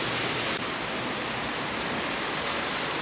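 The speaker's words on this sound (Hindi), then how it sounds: "सुबह से ही देखो बारिश हो रही है इतनी।" Dense, steady hiss of heavy rain falling continuously, loud and uniform with no voices.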